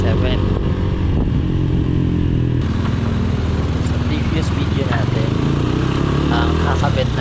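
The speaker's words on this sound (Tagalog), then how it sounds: "Ang nakakawit pala na exhaust natin ngayon ay Yoshimura R77." A Motorstar GPR 250 V2 motorcycle fitted with a Yoshimura R77 exhaust runs close by on a mountain road ride, its loud engine droning and rasping steadily throughout with wind rush, a voice talking over it.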